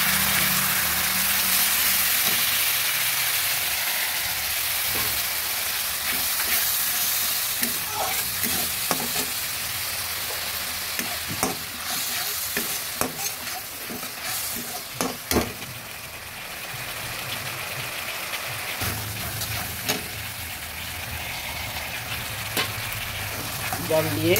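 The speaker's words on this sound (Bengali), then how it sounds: "একটু নেড়ে দিচ্ছি।" Fish curry spices with a splash of water bubble and sizzle in a pan while being stirred, a loud steady frying hiss punctuated by scattered scrapes and taps of a spoon.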